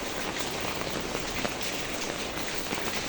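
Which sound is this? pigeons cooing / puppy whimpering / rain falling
rain falling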